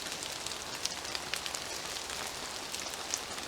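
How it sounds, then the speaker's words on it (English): Gentle rain falls outdoors in a forest, a steady soft hiss with scattered faint drips and light taps throughout, no voices. "I brought you out to experience this gentle drip, drip, drip rain."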